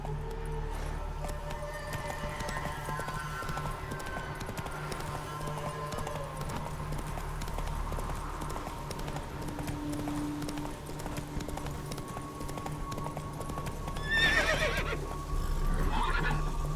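A horse's hooves clop in a steady, continuous rhythm as it runs in the video game Witcher 3, and a whinny breaks through near the end.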